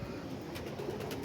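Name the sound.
pigeon cooing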